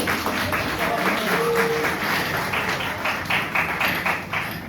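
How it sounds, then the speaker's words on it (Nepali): Audience applause after a musical performance, a dense, steady crowd of claps filling the whole stretch at a fairly loud level, with no voices over it. "फेरि पनि जोरदार ताली जाओस् निकै नै मिठो साङ्गीतिक प्रस्तुतिको लागि"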